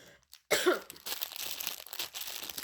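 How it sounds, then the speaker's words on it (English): A single sharp cough from a person during a snack-box unboxing, close and abrupt, followed by faint breathy rustling and low room noise. "Excuse my cough."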